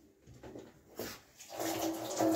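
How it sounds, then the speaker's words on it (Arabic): A little water poured into a fish chermoula marinade, heard as a close, soft trickle that swells into a steady stream toward the end. "غادي نزيد عليها واحد الطريقه ديال الماء، شويه"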